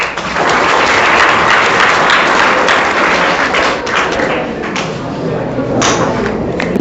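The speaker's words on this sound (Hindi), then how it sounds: "एक बार इनके लिए ताली बजा दीजिए" Students at an inter college applaud loudly for several seconds, a steady dense wash of clapping close by that tapers slightly near the end.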